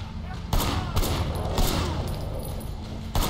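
Gunfire in the video game Sleeping Dogs: a handful of sharp, loud shots at irregular intervals over a steady background din, with a voice faintly under the action.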